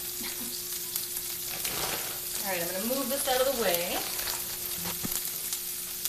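Fresh spinach and defrosting vegetables sizzle and fry steadily in a pan, stirred now and then, while a person talks over the cooking.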